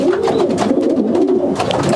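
A racing pigeon cock coos steadily inside a loft in Belgium, loud and close, its throaty rolling calls repeating without pause over a busy background.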